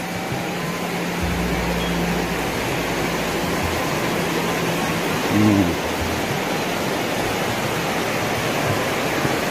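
A river flows in front of a village house in Kampung Naga, Tasikmalaya, as a steady, loud, broadband rush of water that holds unbroken throughout.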